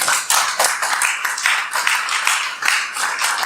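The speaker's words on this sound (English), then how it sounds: "let's welcome Mr. Kendall with a big round of applause" A small audience claps to welcome a speaker at a talk on Changgyeonggung, with distinct, uneven handclaps from a modest group, near and moderately loud, tapering slightly toward the end.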